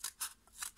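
Scissors with rather thick blades snip through material while a basket is being crafted, three crisp close cuts at a steady rhythm with short pauses between them.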